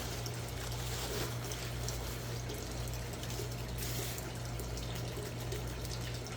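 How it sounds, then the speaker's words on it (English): Water is poured into a worm bin, a steady faint splashing and trickling that runs throughout over a low constant hum, with no talk. "I am going to add just a little bit more water"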